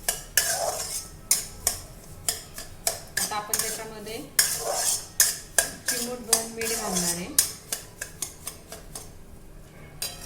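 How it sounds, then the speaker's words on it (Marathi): Coarse semolina (rava) roasting in ghee for sweet sheera, stirred with a metal spoon that scrapes and clinks against the pan in a steady, close rhythm, with light sizzling underneath. "रवा तुपावर छान भाजून घ्यायचा आहे"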